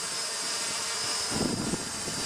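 An S500 Hobbyking quadcopter flies on its first flight, its electric motors giving a steady high whine with a rising buzz of propeller wash partway through, fairly close.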